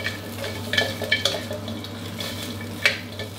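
Crispy three-layer pork belly tossed dry in a hot pan over moderate heat, with a steady soft sizzle broken by several sharp scraping clinks of the spatula against the pan.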